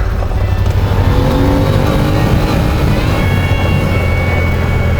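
A car accelerates hard with a loud, sustained engine roar and rising, shifting tones close by, with no talking.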